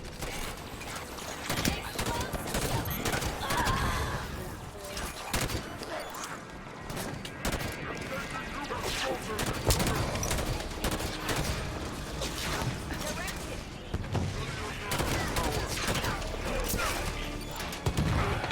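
Rapid, dense gunfire in Halo 5: Guardians, loud repeated shots in bursts throughout with game voices and a player talking over the action.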